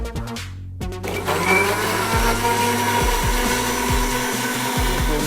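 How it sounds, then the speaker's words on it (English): A kitchen blender whirs loudly as it purees blanched tomatoes with sugar, salt and red chili, a brief start and pause, then a steady grinding roar with the motor pitch wobbling as the contents churn. "Now I'm going to blend it."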